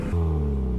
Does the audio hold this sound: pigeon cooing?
no